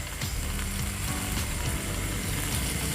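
Squid and chilies stir-fry in a hot pan for a Thai spicy long-bean dish, giving a loud, steady close-up sizzle broken by scraping stirs, with no talking.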